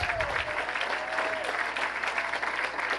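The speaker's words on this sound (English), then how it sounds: "Give her a round of applause." A crowd at a gala claps and cheers steadily for a few seconds, a dense, sustained wash of applause filling the room.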